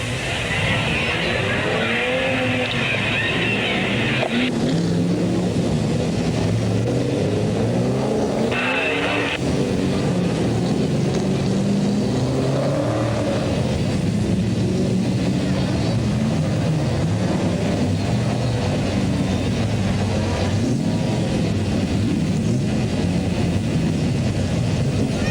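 Production sedan race cars, including a Camaro, circling Newcastle Motordrome in 1979, a continuous loud blend of engine roar rising and falling as cars pass, with crowd and track ambience throughout.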